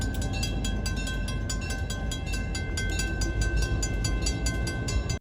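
An EMD SD9 diesel locomotive hauling a vintage excursion train rumbles past at close range, with a loud steady engine roar and rhythmic wheel clatter over rail joints throughout, cutting off abruptly at the end.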